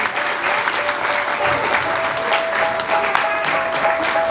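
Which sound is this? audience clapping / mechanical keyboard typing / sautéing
audience clapping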